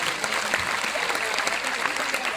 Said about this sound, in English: Let's have a huge round of applause for all of them